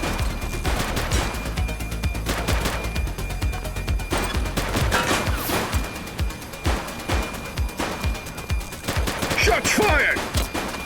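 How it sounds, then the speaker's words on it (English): Gunfire in The Precinct police video game: bursts of rapid shots crackle, then a rattling string of sharp single reports, loud and close, with a brief shouted voice near the end. "Shots fired!"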